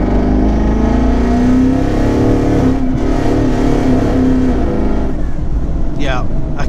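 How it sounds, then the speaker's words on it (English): A twin-turbo 2019 Ford Mustang GT accelerates from inside the cabin: a loud, close, droning engine tone that holds and then eases off, with a voice talking over it. "I keep trying to see if I can put the power down, and I'm rolling into throttle"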